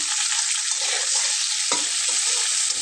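Water from ground spices, saved while grinding on a stone slab, goes into a hot pan for a Bengali fish curry. It sets off a bright, steady sizzle with small crackles and one sharper spit, all close and continuous.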